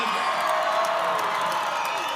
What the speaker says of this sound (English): the crowd pushes on, trying to urge their side to back even